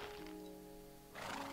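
A horse in the game Minecraft whinnies with a long, wavering neigh, loud and close, ending in a sharp snorting burst, with no talk over it.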